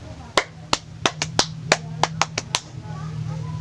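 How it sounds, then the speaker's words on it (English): A group in a mock-up teaching class gives a mosquito clap: about a dozen sharp, separate claps in an uneven rhythm over a low, steady room hum. "Now let's give a mosquito clap of Group 2."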